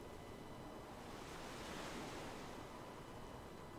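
Ocean waves wash continuously in the Savage Lands video game, a soft, steady surf with wind-like hiss that swells gently near the middle and plays alone without talk.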